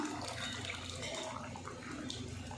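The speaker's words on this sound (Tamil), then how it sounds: "பாருங்க கொதிச்சிச்சு புளி ஊற்றிடலாம் கொஞ்சம்" Tamarind water is poured into a boiling black-eyed pea curry, giving a steady close gurgling splash of liquid that runs without a break.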